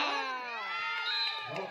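A handball crowd at the Guyub Cup cheers and shouts in a dense, high-pitched roar of many voices, with children's shrieks, loud and sustained throughout.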